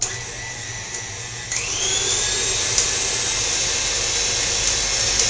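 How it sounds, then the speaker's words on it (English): A KitchenAid stand mixer beats peanut butter cookie dough, its motor a loud, steady whir that rises in pitch as it speeds up partway through, then holds an even drone with no talking. "KitchenAid stand mixers tend to mix things a lot faster."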